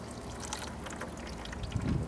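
Beef au jus pours over a smoked beef shoulder in a faint, soft trickling splash, with a slightly fuller gush at the end and no talking.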